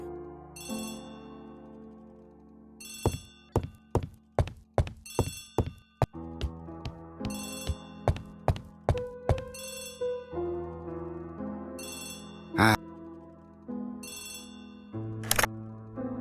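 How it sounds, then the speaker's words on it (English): Telephone rings in the video game Agatha Christie: The ABC Murders: repeated bright electronic ring bursts, loud and close, mixed with sharp knocking thuds and a background music bed, with no talk. "Poirot, the telephone."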